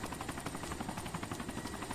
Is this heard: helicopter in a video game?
yes